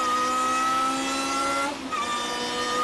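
A Lotus race car accelerates hard at Spa, heading down toward Eau Rouge, its engine note climbing loud and near. A quick upshift breaks the tone briefly before it pulls and rises again.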